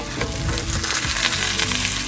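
Steady, dense sizzling of hamburger patties frying in a hot cast iron pan, a continuous crackle with no pauses, close and fairly loud.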